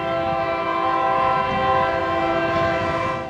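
A train horn blares in a long sustained chord as a train passes along a railroad stretch near Stockton, loud and close, over the low rumble of the moving cars.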